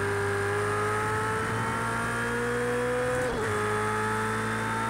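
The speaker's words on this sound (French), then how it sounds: "La Porsche qui résiste à Peter Anderson ne veut rien lâcher" Porsche race car engine in the racing game Project CARS 2, a loud steady high-pitched drone with a brief dip and shift in pitch near the end, continuous and close, no talking.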